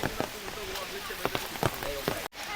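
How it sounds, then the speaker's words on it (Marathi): Light monsoon rain patters steadily on a surface at Matheran hill station, with scattered louder drops and faint voices in the background. "थोडा थोडा पाऊस चालूच आहे"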